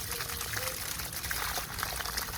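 Water runs steadily from a leaking supply main during a DIY plumbing repair, a continuous soft hiss and gush with no break.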